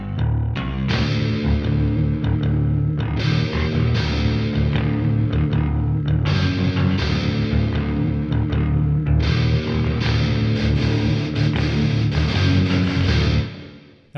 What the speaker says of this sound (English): That's just the extra guitars there are supposed to sort of help with make it sound fuller.